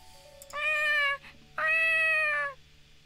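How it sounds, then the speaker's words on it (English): A cat in a visual novel game gives two clear, sustained meows, the second slightly longer, close and loud over a quiet background. "That cat has much better sound effects,"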